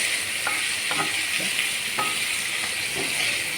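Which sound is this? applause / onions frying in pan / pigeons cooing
onions frying in pan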